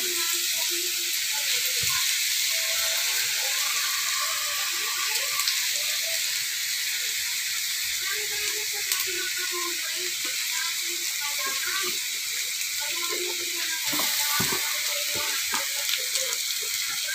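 Sautéed pancit ingredients sizzle steadily in a pan while being stirred, a continuous frying hiss broken by scattered clicks and scrapes throughout.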